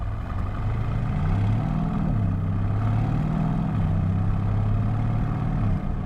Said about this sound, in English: there's this wonderful V8 rumble